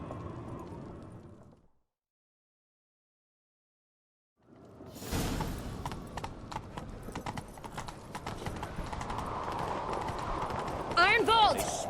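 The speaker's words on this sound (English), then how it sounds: "Grab a horse, we'll chase him down." Horses galloping in pursuit in The Witcher 3: a brief stretch of voices, then a silent gap, then rapid hoofbeats, a whoosh and a whinny near the end, with characters talking over the ride.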